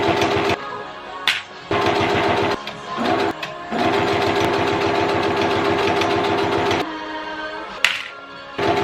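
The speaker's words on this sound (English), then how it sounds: "I'm gonna go ahead and just sew up these 2 cowboy wristlets really quick" A sewing machine stitches cowboy wristlets with tan thread, loud and close, humming in long continuous runs that break off briefly several times before starting again.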